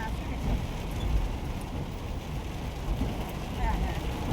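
Dense, steady rain roars without a break, a broad wash of noise that feels close and heavy.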